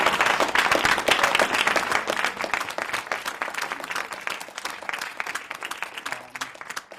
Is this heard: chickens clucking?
no